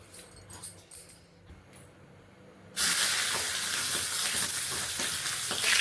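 Chicken liver hits hot oil after a quiet, rustling start, bursting into a loud, continuous sizzle that holds steady to the end, with no talking.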